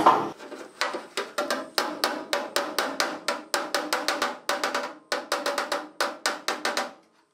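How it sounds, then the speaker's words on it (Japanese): Rapid, sharp metallic hammer blows on a dented steel body panel of a Mazda RX-7 FD3S, backed by a dolly, ring out in a steady rhythm, loud and close, with brief pauses between runs. "裏から手が入るところはこういうドリーって当て板、これを中に入れて で表側から叩く"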